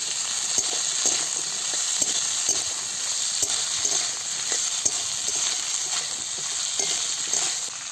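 Ginger paste and chopped spring onions fry steadily in hot oil for a fish curry, a dense continuous sizzle broken by soft, irregular scrapes of a stirring spoon, close and unbroken, with no voices.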